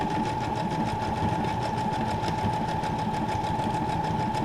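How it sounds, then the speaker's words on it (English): A sewing machine stitching through paper runs in a steady, fast mechanical whir and rapid needle chatter, close and continuous, with no voices. "You can just get a piece of paper out and just sew it, and it looks so beautiful when you're done."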